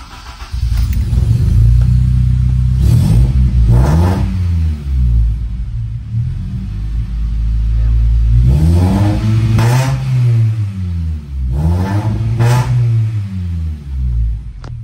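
K-swapped Honda Civic ES (2001–05 generation) built with CR-V Gen 2 parts, running with a slight misfire, revs up sharply four times from a loud, rumbling idle, each rise and fall clearly separate and close by.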